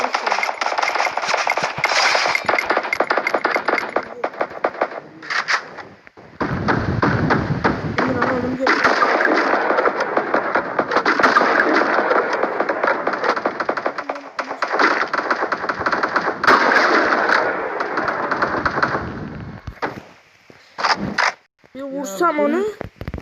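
Rapid gunfire and thuds in a competitive shooting video game, with bursts and single shots stacked densely under frequent excited talk from players throughout.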